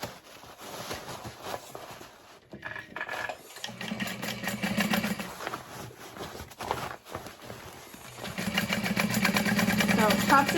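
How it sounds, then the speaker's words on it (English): Sewing machine top stitching through a bag lining while making a Gunther bag, running in steady bursts with a low motor hum and rapid needle clatter, loudest near the end, with brief pauses and some background noise. "So top stitching through the lining just so it matches."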